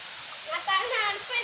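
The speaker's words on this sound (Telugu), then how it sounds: "ఎండాకాలంలో వర్షం పడుతుంది" Steady hiss of rain pouring down, with a few louder splashy bursts rising and falling throughout.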